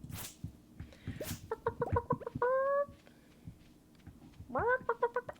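Chickens clucking in the video game Stardew Valley: short bursts of tonal, stepped squawks, one run early and another near the end, alongside soft game sounds and brief noisy blips.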